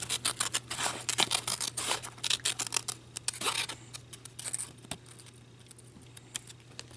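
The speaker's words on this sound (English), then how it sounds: "And I'm just going to cut around it." Scissors snip around a paper shape for a handmade button card, a quick uneven run of close, crisp cuts that grows sparser and fainter, with a low steady hum underneath.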